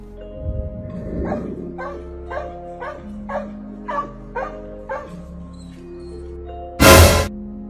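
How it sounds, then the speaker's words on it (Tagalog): A dog barks repeatedly up in a tree in an even rhythm, about eight sharp barks in a row, followed by a sudden loud burst of noise. "kung bakit tahol ng tahol ang aso sa taas ng puno kahit wala namang naroon"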